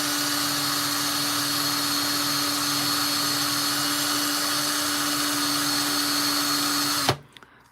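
Steady, continuous high whir of a rotary tool sanding a ring with 2000 grit, running close and unbroken for about seven seconds before cutting off abruptly.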